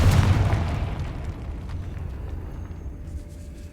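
Confringo and Bombarda spell blast in Hogwarts Legacy, one loud deep boom at the very start followed by a rumbling tail that fades away.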